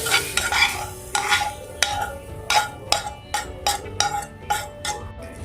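An omelette mixture is spread over an egg omelette frying in a pan for a Mumbai street-food omelette. A spatula scrapes and taps the pan in a quick, regular rhythm over a soft background sizzle, with no one speaking.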